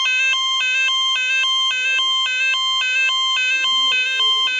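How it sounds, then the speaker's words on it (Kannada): A Star Impex toy ambulance sounds its electronic siren with the back door opened, a steady two-tone wail alternating high and low pitches at a brisk, even rhythm, loud and close, with faint handling noise underneath. "ಇದನ್ನು ಡೋರ್ ತೆಗೆದ್ರೆ ಯಾವ ರೀತಿ ಸೈರನ್ ಮಾರುತ್ತೆ"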